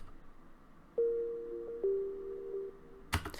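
Two sustained synth notes sound, each layered with its own delayed echo in a beat tutorial, soft and thin over a quiet hum, before a short loud burst of noise at the very end.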